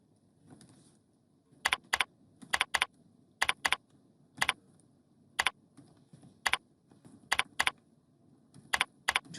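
Fingers tap out names on a computer keyboard in short bursts of sharp, close clicks with pauses between, over a faint background hum.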